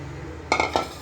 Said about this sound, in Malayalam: ഈ പാത്രത്തിലോട്ട് മാറ്റാം